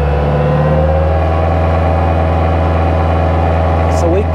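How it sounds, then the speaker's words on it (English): Bobcat T300 skid steer diesel engine held at high revs, with a loud steady droning hum and tonal whine throughout, plus a brief pitch shift near the end; a voice may be present. "So let's rev this one up."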